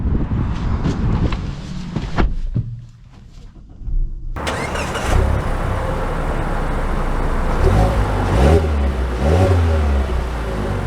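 A 2024 Mazda CX-5 Signature starts and pulls away, its engine rising from a hum into a steady rev and climbing acceleration, with road noise heard from inside the cabin.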